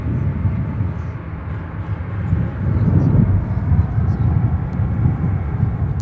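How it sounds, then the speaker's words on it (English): A China Cargo Boeing 777 freighter on approach to Chicago O'Hare, arriving from Anchorage: a low, rumbling jet roar that swells slightly near the middle and stays fairly loud and continuous, with no speech. "We have China Cargo 777. Flight 227 from Anchorage."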